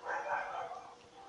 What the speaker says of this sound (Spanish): Putos perros.